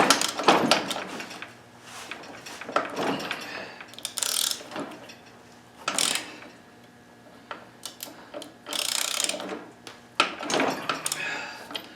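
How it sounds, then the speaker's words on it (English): A ratchet clicking as it tries to turn the locked-up engine of a John Deere D110 lawn tractor, heard as close bursts of rapid ratcheting clicks separated by short pauses, with no talk. "I don't know if I can get a little bit, get it to spin with the ratchet"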